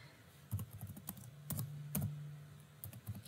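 Quiet typing on a computer keyboard, a few scattered clusters of sharp key clicks close by, alone in a still room.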